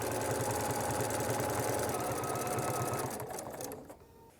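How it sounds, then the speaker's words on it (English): A domestic sewing machine hums and rattles rapidly as it stitches along a quilting ruler. The fast, even run loses speed after about three seconds and stops. "Make sure that ruler is right up against the edge and stitch."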